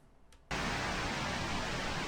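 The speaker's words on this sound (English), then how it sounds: "that still sounds just like white noise at this point, because there's no proper mixing going on" Layered white noise synthesized in Audacity for a wind effect switches on abruptly after half a second of near silence, then holds as a loud, steady, unmixed hiss.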